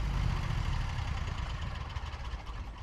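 A lawn mower engine idles steadily at a customer's home during lawn care work, a continuous low rumble with mid-range roughness holding close and even throughout, no voices over it.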